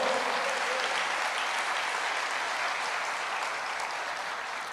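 A church congregation applauds together in a sustained, dense wash of clapping that holds steady at full strength before easing slightly near the end, with no voices rising above it.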